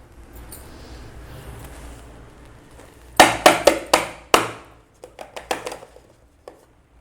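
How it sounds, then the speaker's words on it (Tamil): A knife cutting a tray of carrot Mysore pak into pieces, heard as a quiet scrape followed by a run of sharp, close chopping taps in two quick series. "இப்போது நமக்கு வேணுங்கிற சைஸ்க்கு பீஸ் போட்டுக்கலாம்."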